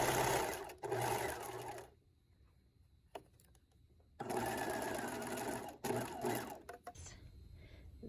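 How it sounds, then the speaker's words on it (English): Sewing machine top-stitching a tiny zigzag along the hem of an 1890s-style chemise, running in loud close bursts of rapid stitching with a quiet pause between them. "I will top stitch another row of the tiny zigzag"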